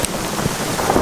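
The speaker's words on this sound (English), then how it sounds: "seems like hail coming down" Hail and heavy rain pelting down during a thunderstorm at an exposed campsite, a dense, loud, continuous hiss with scattered harder impacts, close by with no talk.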